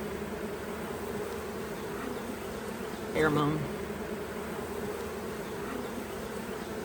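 Honey bees drone steadily around an open hive during a honey harvest check, a dense continuous buzz close to the frames, with a short spoken word cutting through partway.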